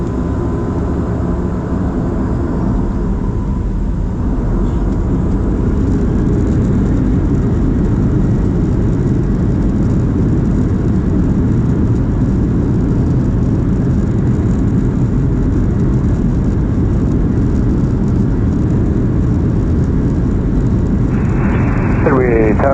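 A Southwest Boeing 737-700 jet takes off from runway 4 right at Chicago Midway, a loud and continuous engine roar with air traffic control radio chatter over it.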